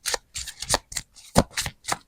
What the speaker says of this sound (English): Your cards are just falling